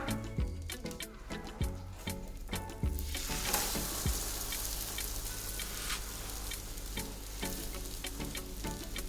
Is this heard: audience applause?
no